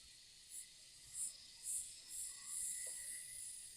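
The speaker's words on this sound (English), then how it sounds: "And the cicadas are so loud," Cicadas calling in a forest, a steady high shrill drone with several louder pulsing swells rising and falling in sequence, fairly close and continuous, with no voices.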